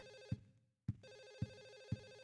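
A telephone rings in the horror video game Silent Hill 4, giving a repeated electronic bell tone with regular pulses roughly every half second and a short gap after the first ring, clear and alone.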